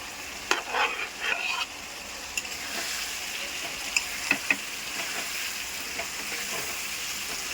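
Fried potatoes stirred into spiced oil for a Bengali fish-head dish, with a steady close sizzle and scattered clinks and scrapes of the spatula against the pan, busiest early on and then settling into continuous frying.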